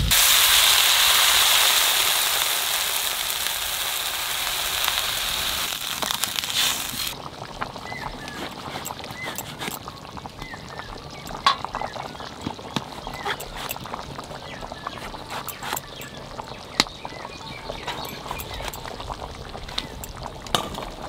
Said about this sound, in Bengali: কচু ভাজা হয়ে গেছে, আমি জল দিয়ে দেবো।